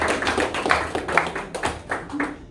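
A church congregation claps for God, giving a few seconds of loose, uneven hand claps in scattered bursts, fairly close and moderately loud, with no talk over them.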